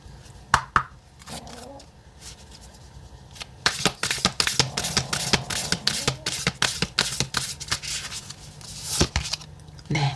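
Oracle cards are shuffled by hand, close up, with rapid riffling flutters and sharp taps that start sparse, then build into a dense run of crisp card slaps and shuffles.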